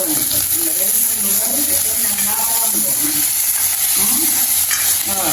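Tomatoes sautéing in a pan for a Jaffna fish and dried-fish curry, a continuous loud sizzle with hissing steam and stirring scrapes, a voice talking faintly underneath.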